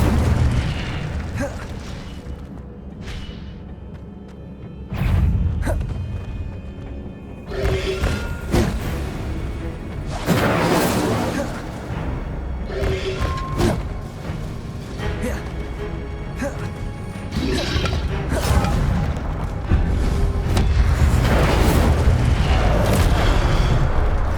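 Repeated Incendio fire spells are cast in the Hogwarts Legacy video game, giving loud booming bursts and whooshing flame blasts that come one after another over about twenty-four seconds, with game effects and a voice in between.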